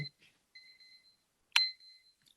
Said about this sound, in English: That's our timer.